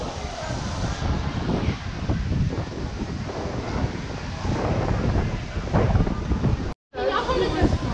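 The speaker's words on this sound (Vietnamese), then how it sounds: "ở ngoài sân gió nó thổi quá các bạn" Strong wind buffets the microphone on the deck of a superyacht, a loud, steady roaring rush with gusty swells and a brief dropout near the end, with no talk over it.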